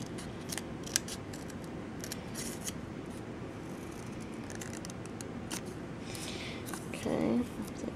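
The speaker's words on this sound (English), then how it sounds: "then I use my small scissors" Small scissors cutting white cardstock up close, a series of crisp snips and slicing strokes spaced across the clip over a quiet room hum, with a brief soft rustle near the end.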